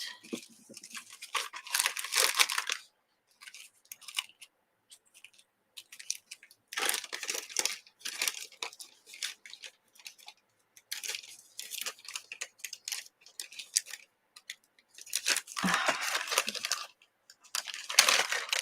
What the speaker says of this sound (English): Having trouble with Ziploc bags today.